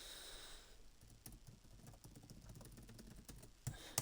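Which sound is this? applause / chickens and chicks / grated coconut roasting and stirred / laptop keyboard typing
laptop keyboard typing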